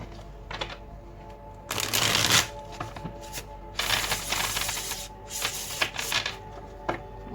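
Tarot cards being shuffled by hand, giving several bursts of crisp riffling and sliding card noise with short pauses between, close and fairly loud, with no talking.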